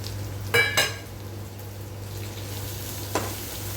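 Raw mango pachadi sautés in a pan with chilli powder, asafoetida and jaggery, giving a faint, steady sizzle broken by a few light clinks of a spoon against the vessel.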